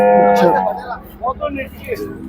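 A pregnant cow at a cattle market in Sardar Nagar lets out one long, loud, harmonic moo up close, followed by softer lowing and market noise.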